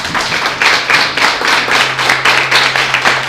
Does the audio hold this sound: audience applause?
yes